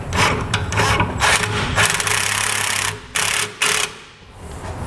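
A flange nut is tightened down on a B and W fifth wheel hitch being installed in a 2007 Toyota Tundra, giving a close, steady mechanical whirr with brief ratcheting bursts and short pauses near the end.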